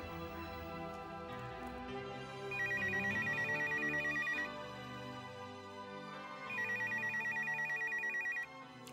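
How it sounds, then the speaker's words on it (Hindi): A telephone rings in two long electronic trills separated by a pause, sounding fairly close over a low musical background. "असफर का फोन है।"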